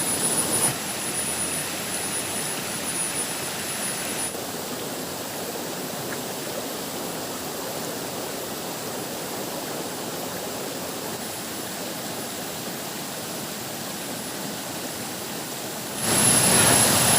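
Stream water rushing along a forest trail to Pha Salad Dai waterfall in Nakhon Nayok, a steady broadband wash of flowing water, continuous and fairly close, with a brief louder burst at the end.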